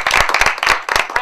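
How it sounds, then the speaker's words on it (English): Several people at an evening panel event clap in a short round of applause, a few close, distinct hand claps in an uneven rhythm, brief and fairly loud. "let's give a round of applause to Jill and Bruce Henderson"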